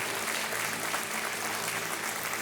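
Sustained studio audience applause on a televised quiz show, dense steady clapping filling the room without a break, fairly loud and even throughout.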